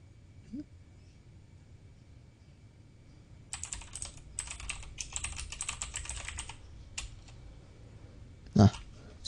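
Fingers type commands into a computer terminal on a keyboard, a close, quiet burst of rapid key clicks in a few clusters, ending in a heavier keystroke.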